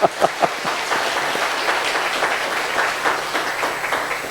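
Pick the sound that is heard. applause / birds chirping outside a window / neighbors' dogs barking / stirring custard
applause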